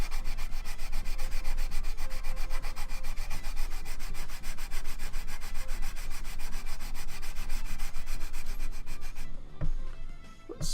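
Steady, loud rasping of a file worked back and forth over a plastic Nerf MA37 blaster part, continuous for about nine seconds before stopping, followed by a couple of small knocks.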